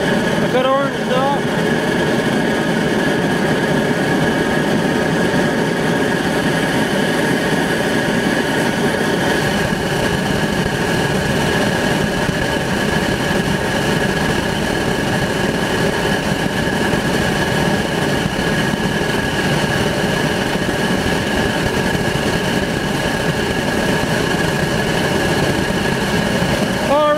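A Joe Pipe FireTap double-coil, double-pipe stove burning hot with its top glowing orange, giving a loud, steady roaring rumble that holds without a break throughout.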